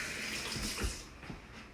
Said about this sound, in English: let me rinse my hands 1 second.